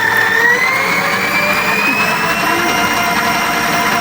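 A new electric stand mixer runs at speed 4 with a loud, steady whirring motor whine that rises slightly in pitch, constant and close throughout.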